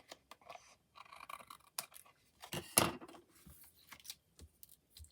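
Scissors trim the edges of a handmade A5 paper card in a run of short, sharp, close snips and crisp paper cuts, separated by brief quiet gaps, with no voice.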